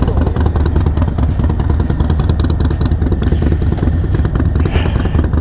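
A Harley-Davidson motorcycle engine runs as a loud, steady, close-up rumble with a rapid clattering pulse. The sound stays even throughout, with no clear revving.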